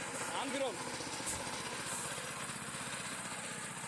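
A small 7 HP farm tractor being driven, its engine running steadily at close range with a continuous buzzing drone under someone talking.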